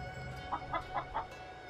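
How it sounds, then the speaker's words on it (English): A chicken in a video game clucks four times in a quick, even series, soft and moderately close, over a steady low background hum with no talking. "I think this chicken's about to lay an egg."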